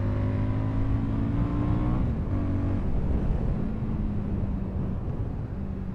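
A Fantic Caballero 500 scrambler motorcycle engine runs loud and close, holding a steady note before its pitch drops and settles into a rougher, lower rumble.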